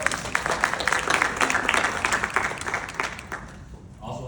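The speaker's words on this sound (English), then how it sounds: "let's give them a big round of applause" Audience at a youth organizing conference at the Muhammad Ali Center gives dense, sustained applause, close and loud, tapering slightly near the end.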